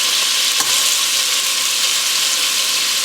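Tomatillo pork stew meat browning in a pan, a loud, dense, continuous hiss of sizzling fat with a single faint utensil knock near the start, close and steady throughout without talk.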